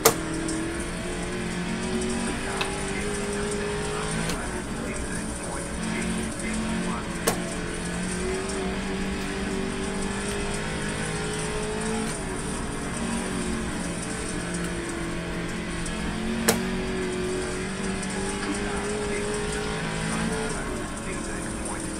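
Late model race car in the iRacing sim racing game drones steadily throughout, engine holding a sustained roar with slight pitch swells as it laps the track, plus a couple of sharp clicks along the way.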